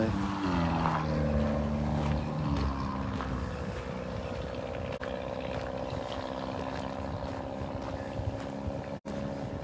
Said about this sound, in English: Somebody has a noisy vehicle here